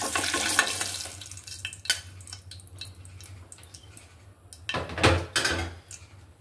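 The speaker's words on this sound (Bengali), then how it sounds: "আমি ডিমটা ভেজে নিব, তার জন্য একটু হলুদ দিয়ে দিচ্ছি তেলের মধ্যে।" An egg frying in hot oil with a little turmeric in a home kitchen: crackling sizzle bursts, strongest at the start and again near the end, with quieter spitting and clatter between.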